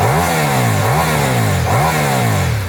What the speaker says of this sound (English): that V4 soundtrack, which gives you a bit of that Panigale feel